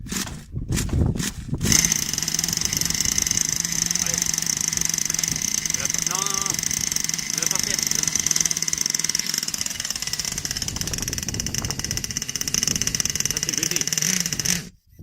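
A small combustion engine on a model, cold after a long rest, sputtering briefly and then catching into a loud, steady high-pitched buzzing run close by, with a voice speaking partway through before the engine cuts out at the end.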